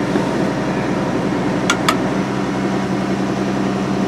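A Mercedes Sprinter van engine holds a steady high idle set by its idle control, a constant low drone broken only by two quick clicks from a button press.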